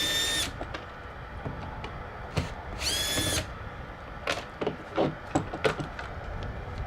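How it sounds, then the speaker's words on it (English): A power drill backs out screws from the inside of an RV door latch, several short whirring bursts at close range separated by brief pauses and small metallic clicks. "we'll pull off the 4 screws on the inside"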